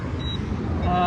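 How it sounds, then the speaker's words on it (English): A car passes along a road near a rural Middle Georgia farm during metal detecting, a low rumbling engine swell that grows louder toward the end, with a brief faint tonal whine in between. "Sorry about the car noise."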